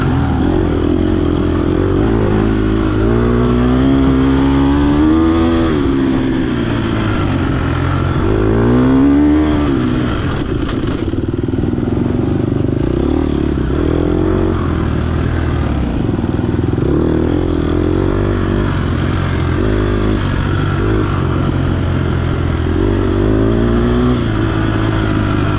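Offroad racing motorcycles rumble loud and close throughout, with a rival bike revving repeatedly in rising, falling sweeps over a steady engine drone and occasional clatter.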